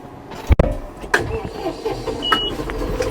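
Tractor engine cranking and catching on a wet paddy field: a sharp starter burst followed by a rough, rumbling engine turning over and settling, close and loud.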